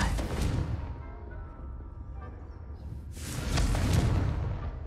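A fiery blasting spell goes off in a video game with a rushing, broadband whoosh and boom that fades and then surges again, loud and close, mixed with game noise.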